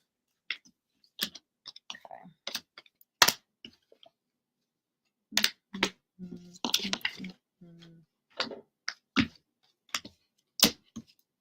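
Tarot cards being handled and tucked away, giving scattered soft clicks, taps and shuffling rustles in short close bursts, with a brief murmured voice among the card sounds and quiet gaps between.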